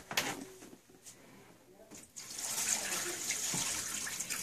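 Waste water from a sterilizer waste bottle poured into a sink: a few clicks and handling knocks, then a steady splashing stream that continues to the end, close and fairly quiet.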